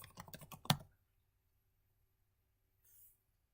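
A quick burst of typing on a computer keyboard, about a dozen rapid key clicks ending in one harder tap, close and crisp, followed by near silence and a faint brief hiss.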